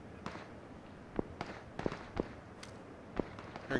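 Distant gunfire in PlayerUnknown's Battlegrounds, a scattered series of sharp faint cracks and pops at irregular intervals over quiet background, no talking.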